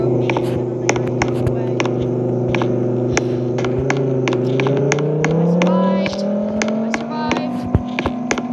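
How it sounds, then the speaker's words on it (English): Car engine of an arriving taxi in a cartoon game, a steady hum that rises in pitch as it pulls up, with sharp clicks and taps scattered over it. "Alright, time to call a taxi."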